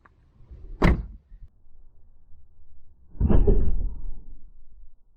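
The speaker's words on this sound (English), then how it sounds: "Here I show you guys what the car does when you slam a door shut" A Chevy Tahoe's door slams shut once with a sharp, loud thump, followed a few seconds later by a second heavy, rumbling thud as the cabin shudders, all close by with no talking.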